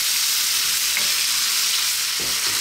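Pork and vegetables sizzle steadily in a very hot pan for a Chinese stir fry, a dense constant hiss with occasional soft scrapes of stirring, close and unbroken.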